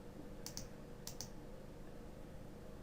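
A few quick keypresses on a computer keyboard, two short pairs of clicks, faint against a steady background hum while text is being deleted in a design editor.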